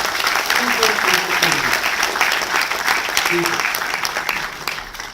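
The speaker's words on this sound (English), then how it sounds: "a round of applause to all the designers" An audience at an Intel corporate event in Penang, Malaysia applauds for the designers, a steady dense wash of clapping that stays fairly loud and tapers slightly at the end.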